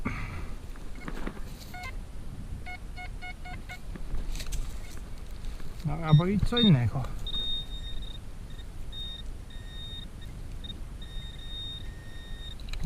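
A metal detector gives steady electronic beeping tones in short bursts, moderately loud, with someone speaking briefly in Polish in the middle and outdoor rustling underneath.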